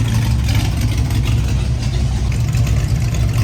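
A 1967 Ford Mustang engine runs steadily with a deep, throbbing low rumble, close and constant throughout with no talk.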